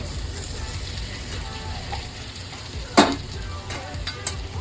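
Potatoes sizzle and fry steadily in a hot pan for a dry potato sabzi, a continuous close crackle with one sharp clunk of utensil against pan partway through.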